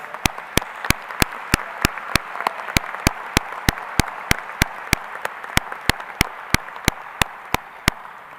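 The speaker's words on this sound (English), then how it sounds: "I want to give everyone a round of applause to our teachers, our staff, and all the work and energy and love." A graduation audience at Midlothian High School applauds its teachers and staff with clapping that sounds as an evenly spaced, sharp beat over a soft crowd wash, holding steady for several seconds without any talk.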